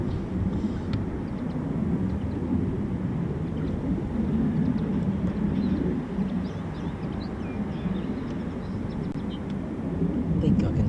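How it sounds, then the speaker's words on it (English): A broad, steady roar of RAF Eurofighter Typhoon FGR4 jets running at a distance near the main apron at RAF Coningsby, a continuous low rumble with light background sounds. "I think I can still hear Typhoons running down by the main ASP."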